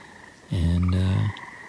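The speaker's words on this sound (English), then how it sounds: "The tree frogs are croaking." A single tree frog gives one loud, close, low croak lasting under a second at a pond at night, against quiet background hiss.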